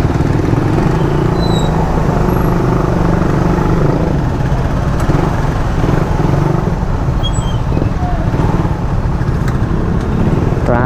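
Road traffic streams past a rider on a Raider 150 motorcycle, a loud, continuous rumble of engines and tire noise with faint higher squeaks scattered through it.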